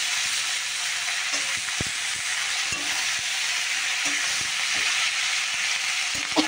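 Vegetables sizzle and fry steadily in a pan after spices have been tempered in hot oil, giving a close, continuous hiss with occasional stirring clinks and knocks.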